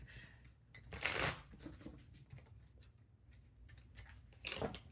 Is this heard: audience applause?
no